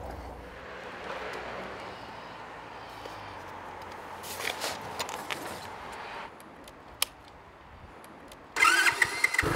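A motorcycle engine revs and idles at moderate distance with a steady rumble, followed by a louder burst of revving near the end.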